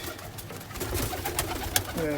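Pet pigeons or doves coo softly indoors in short rolling calls, with faint rustling around them and a quiet voice in the background.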